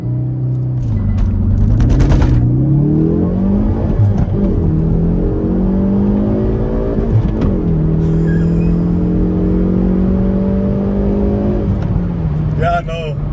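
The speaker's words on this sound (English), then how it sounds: "we just put our foot flat on the throttle" A Hyundai i30 N pulls hard at full throttle, its engine note climbing steadily through the gears with brief dips at each shift, loud and close from inside the cabin, with people talking over it.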